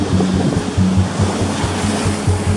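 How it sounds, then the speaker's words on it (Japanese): Large ocean waves break on a Sea of Japan beach, a loud, steady roar of churning surf and wash with repeated low surges, heard up close with no voices. "なんかこの大波が砂をビーチにどんどん押し上げた感じがしますね"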